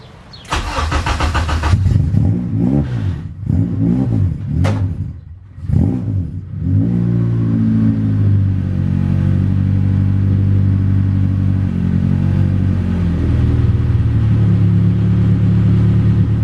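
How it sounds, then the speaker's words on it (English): Several car engines are started close by and blipped in sharp revs, then settle into a loud, steady rumbling idle that runs on without talk. "Alright guys, so cars are on."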